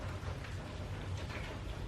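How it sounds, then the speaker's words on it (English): Heavy rain falls on a flooded shop during a tornado watch, a steady dense hiss of rainfall with a low rumble underneath and no voices. "It's just raining like crazy right now."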